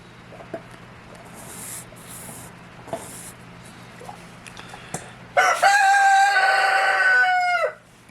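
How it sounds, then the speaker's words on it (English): A loud rooster crows once, close by, a long drawn-out call after a stretch of quieter background noise. "Sorry about my rooster."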